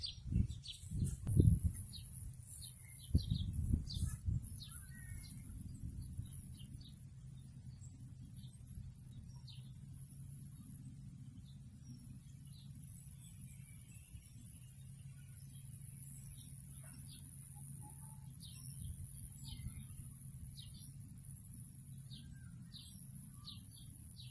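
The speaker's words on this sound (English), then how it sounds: "there's loads of grasshoppers and crickets by the sounds of it, as well as the birds" Countryside on the South Downs on a muggy day: scattered faint bird chirps and calls ring out over a steady high insect-like hiss that could be grasshoppers and crickets, with a few louder rustling bumps at the start.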